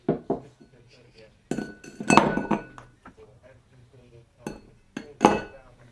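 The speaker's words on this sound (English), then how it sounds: "add 2 large ice cubes to a rocks glass" Two large ice cubes clinking into a rocks glass while a Dubonnet cocktail is mixed, giving sharp glassy knocks and clatters in short bursts, close and fairly loud against a quiet room.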